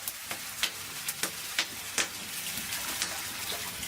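Water poured into a hot pot of toasting rice for Greek dolmades, with steady sizzling and bubbling broken by soft clinks and stirring knocks, close and fairly quiet with no talk.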